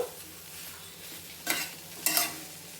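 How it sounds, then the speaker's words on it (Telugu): Cauliflower florets frying in hot oil in a pan for a curry, a steady close sizzle with two brief louder bursts of stirring and spattering. "గోబీని ఆయిల్లో వేయించినామనుకోండి టేస్ట్ బాగుంటుందన్నమాట అట్లా ఒక టూ మినిట్స్ అట్లా వేయించుకుందాము"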